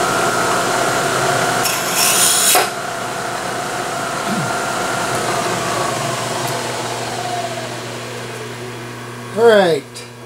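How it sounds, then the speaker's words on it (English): A twist drill bores into a piece of plastic with a steady, loud whine lasting several seconds, a brief scraping burst partway in, then a sharp rising spin-down near the end. "Let's try to drill a hole in this piece of plastic."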